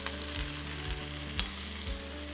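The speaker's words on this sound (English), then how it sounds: "Turn the fire up just a little bit, and I'm going to add all of the sausage here." Italian sausage frying in oil in a pan over a raised flame, giving a steady continuous sizzle with faint crackles and a few soft stirring knocks, close by with no talk.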